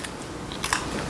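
Dull kitchen scissors snip through a raw chicken backbone with a couple of short crunching cuts close by, a brief crackling bite in an otherwise quiet moment.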